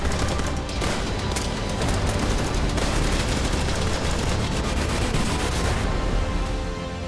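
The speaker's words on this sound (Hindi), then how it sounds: "इस वीडियो में यूक्रेन के ड्रोन पर गोलियां भी बरसाई गई।" Heavy gunfire aimed at a Ukrainian sea drone attacking a Russian warship at sea: a dense, continuous rattle of rapid shots that stays loud and close throughout, with no voices.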